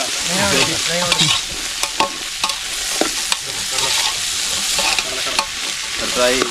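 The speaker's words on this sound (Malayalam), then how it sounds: "നൈസായി മുറിച്ച ചേന ഇടാൻ പോവുകയാണ്" Chopped elephant foot yam fries in a hot pan, with steady close sizzling and frequent scraping stirs of a spoon against the metal, no voices.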